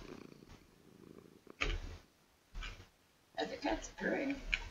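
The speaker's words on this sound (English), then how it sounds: "other cats purring." A cat purrs in modded Minecraft 1.14.4, a soft low rumble under a player's voice, which breaks in with several louder bursts of talk.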